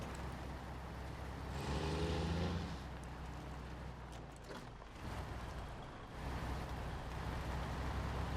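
A Freightliner truck in the SnowRunner video game rumbles steadily in the foreground, its engine note swelling briefly, then dropping back, with a short hissing release near the middle and the drone returning louder toward the end.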